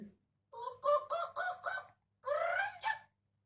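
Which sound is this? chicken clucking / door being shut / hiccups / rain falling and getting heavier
chicken clucking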